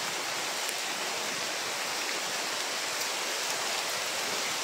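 Steady outdoor rain, a continuous even hiss of falling drops with no breaks, fairly soft and unaccompanied.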